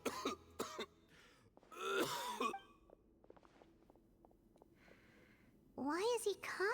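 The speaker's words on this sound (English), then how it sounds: "Why is he coughing so much?" An old man character in Genshin Impact coughs and clears his throat a few times in short rough bursts, with rustling and low background noise between them.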